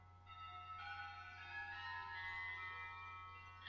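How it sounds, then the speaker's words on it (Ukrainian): Eerie, sustained bell tone rings out with layered metallic overtones, swelling gradually and holding steady over a constant low hum, with no voices present. "що за дзвін"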